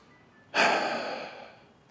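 A single deep, audible breath drawn in sharply by a man in a Turkish TV drama, loud and close, rising suddenly and then trailing off slowly.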